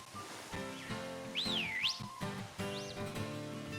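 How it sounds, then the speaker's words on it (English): In Pokémon Violet, the player whistles at a wild Pokémon: a clear, bright whistle bends up and down in a long swooping phrase, followed a moment later by a shorter second whistle, over quiet game music. "Whistle."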